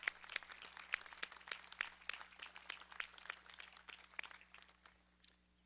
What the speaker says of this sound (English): please join me again in a great round of applause for all of our Coast Guard scholars